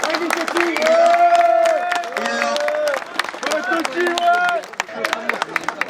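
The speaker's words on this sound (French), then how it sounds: "on applaudit l'équipe la plus fair play du tournoi" At a football tournament in Montbéliard, a crowd applauds the fair-play team while an amplified voice talks over it, and scattered sharp claps stand out more clearly toward the end.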